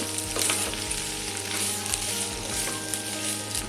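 Vegetable filling for bread pattice sautéing in a pan, a steady close sizzle with occasional stirring scrapes, continuous and fairly loud throughout with no talk.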